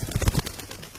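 Short coos of a dove, a few low soft pulses close by in the first half, fading out by the end with no voices.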